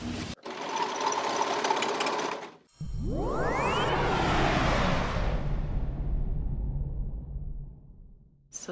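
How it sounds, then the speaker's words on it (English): A serger finishing a fabric edge while sewing gathered fabric for an isolation gown: a loud, rapid mechanical whirr in two runs separated by a brief pause, the second with a rising whine as it speeds up, then stopping. "And I'm also going to use my serger so that will finish off the edge as I go."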